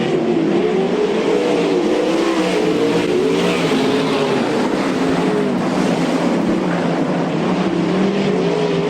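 360 sprint cars race at Archerfield Speedway, their engines making a loud continuous roar with rising and falling whines as the pack laps the track, steady throughout.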